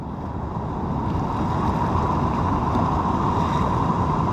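Steady rain falls outdoors near water during a monsoon day in rural Konkan, a dense, continuous hiss mixed with wind rumble that stays loud and unbroken throughout.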